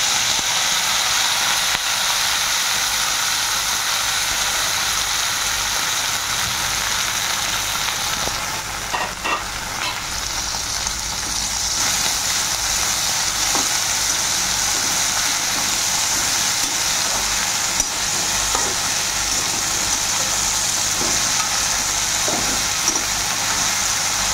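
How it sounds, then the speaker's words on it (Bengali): Dried shrimp sizzle and crackle steadily in hot oil in a pan for Bengali cooking, a continuous close frying hiss with occasional stirring, no voices. "চিংড়ি শুটকিগুলো আমরা ভেজে নেব।"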